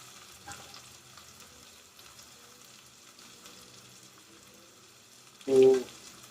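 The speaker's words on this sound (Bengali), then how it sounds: "পেঁয়াজটা যতটা পরিমাণে ভাজার দরকার ছিল ততটা ভাজা হয়ে গিয়েছে, স্যালো ফ্রাই হয়ে গিয়েছে।" Chopped onions shallow-fry in a pan for a Bengali mutton kosha, giving a soft, steady sizzle that ends in a brief louder stir near the end.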